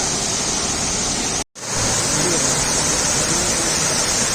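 Catherine Falls near Kotagiri in the Ooty hills pours down as a steady, loud broadband roar of falling water, continuous apart from one brief dropout.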